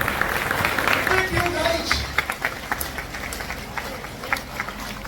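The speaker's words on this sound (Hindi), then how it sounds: "जोरदार तालियां बजाइए" A crowd applauds steadily, dense clapping filling the space, with a few louder claps standing out as it tapers slightly.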